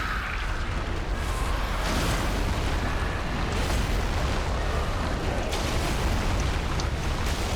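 Fire bombs burst in Dark Souls 3 gameplay, a dense, loud rumbling wash of booms and fiery crackle that holds steady throughout.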